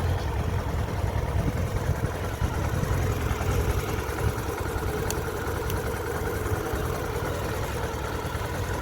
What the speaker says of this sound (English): Cool engine, cool sound.